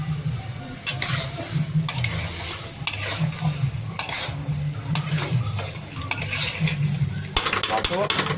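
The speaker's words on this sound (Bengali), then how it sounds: "এবার একটুখানি হিটটা বাড়াই, আর একটু কষার ব্যাপার আছে।" Masala being stir-fried in a pan over raised heat, with repeated scraping strokes of a spatula against the metal over a continuous sizzle, close and loud in a rough rhythm, no talking.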